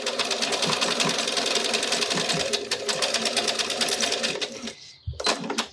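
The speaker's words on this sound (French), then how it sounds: "Donc on coud tout le long. J'ai mis mon pied pose fermeture." Domestic sewing machine stitching along a zipper with a zipper foot fitted, a fast steady mechanical whirr close by that stops near the end with a brief clunk.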